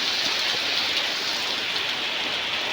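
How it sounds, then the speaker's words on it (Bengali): Steady rain falls around an earthen village house, a dense, even hiss of drops that stays constant throughout with no voices. "বৃষ্টির যে শব্দ,"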